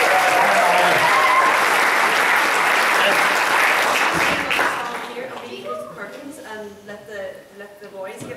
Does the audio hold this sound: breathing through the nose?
no